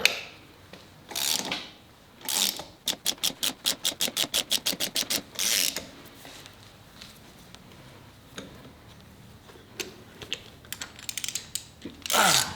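A socket wrench ratchets on a part of a Ford 4.6L 4-valve engine during a teardown, giving a rapid run of about a dozen even clicks close by, with clunks and handling noises before and after.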